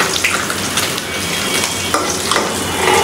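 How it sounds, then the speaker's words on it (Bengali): River fish frying crisp in hot oil, a loud continuous sizzle and crackle close up with occasional sharper pops and stirring scrapes, no talking. "ভাজা হয়ে গেছে, একদম মুচমুচে করে ভেজে নিয়েছি"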